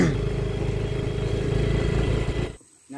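A motorcycle engine runs close and loud on a rural road, a rough throbbing putter holding steady for over two seconds before cutting off abruptly into near silence.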